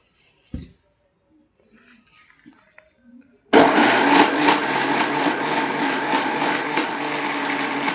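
A kitchen mixer grinder blending a spice mix with coriander powder and salt starts abruptly after a few quiet clicks and handling sounds, then runs as a loud, continuous, close whirring roar to the end.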